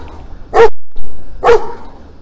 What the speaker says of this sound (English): this is one of my friendly neighbor dogs here.